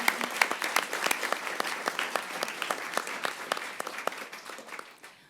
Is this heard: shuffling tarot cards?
no